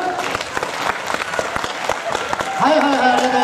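An audience at a baseball cheerleader squad game contest applauds to vote, with dense crowd clapping that fades as a voice starts speaking near the end.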